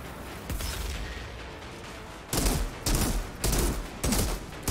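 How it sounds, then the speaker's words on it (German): Mortar fire in the game Outriders: a series of four or five heavy, booming blasts in a roughly regular rhythm over a noisy rumbling background, loud and close. "Mörser."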